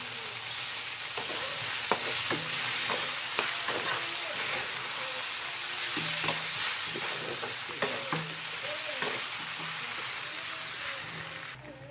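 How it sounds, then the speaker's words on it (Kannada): Food is stirred and mixed in a hot pan, with a steady sizzle of frying under repeated scraping strokes of a spatula, close and fairly loud, with no voices. "ಇದಕ್ಕೆ ಇವಾಗ ಮಿಕ್ಸ್ ಮಾಡ್ಕೊತೀನಿ ಚಂದಾಗಿ ನಾನು."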